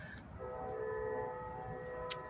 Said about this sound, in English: Hear the train whistle.